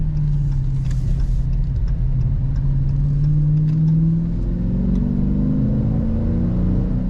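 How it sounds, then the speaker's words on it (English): A 2021 Dodge Challenger R/T Scat Pack with the 392 Hemi engine drones steadily from inside the car, its pitch climbing as it accelerates and revs through a gear, loud and continuous with no talk. "it is hard to beat a Hemi sound"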